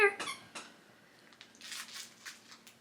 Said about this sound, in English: why do I buy squeaky toys?